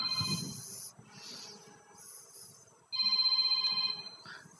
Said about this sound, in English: actually phone rings